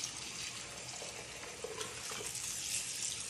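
Fresh water runs from a tap over a wild turkey breast being rinsed, a steady close hiss of flowing water with no talk.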